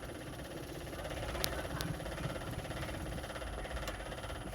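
A sewing machine stitches a blouse, its motor giving a continuous mechanical whir and rapid needle rattle, close and fairly quiet, with no talking.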